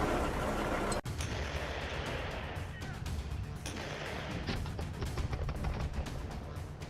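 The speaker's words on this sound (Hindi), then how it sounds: "रूसी तोपें युद्धाभ्यास कर रही हैं, युद्ध का ऐलान कर रही हैं।" Russian artillery firing during military drills: a sharp blast near the start, then continuous heavy rumbling and overlapping booms and crackle, loud throughout with no clear pauses.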